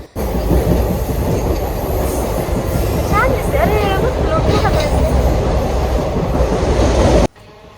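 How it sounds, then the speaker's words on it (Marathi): A passenger train rolls loudly along the tracks in Mumbai with a continuous rumble, rhythmic clatter and brief squealing wheels, close by, before cutting off abruptly. "ट्रेन आल्यानंतर आम्ही मस्त ट्रेनमध्ये बसलो"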